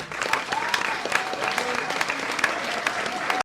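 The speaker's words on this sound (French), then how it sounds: "Vous pouvez applaudir." An audience applauds steadily for a few seconds after results are read out at a municipal election count in La Rochelle, crowd clapping with scattered voices, cut off abruptly.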